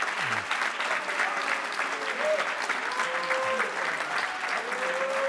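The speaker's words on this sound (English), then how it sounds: "So can we just give him one more huge round of applause?" A crowd at a youth sports volunteer recognition ceremony gives a long, even round of applause, with scattered voices calling out over the clapping.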